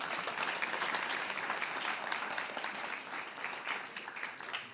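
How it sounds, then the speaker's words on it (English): Audience at a Guide Dogs for the Blind graduation ceremony applauds donors, a steady, moderately distant wash of many hands clapping that holds for several seconds and tapers slightly at the end. "So we're very grateful for our donors and want to thank them and applaud them for a moment."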